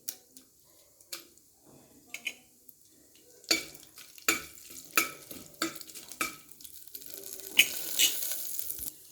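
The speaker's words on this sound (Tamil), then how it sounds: "இப்போ நம்மளோட கடுகு உளுந்தம்பருப்பு நல்லா பொரிஞ்சு உளுந்தம்பருப்பு செவந்துருச்சு" Mustard seeds and urad dal spluttering in hot oil in a home kitchen pan, giving scattered sharp pops and crackles that grow denser and louder toward the end, with occasional stirring scrapes.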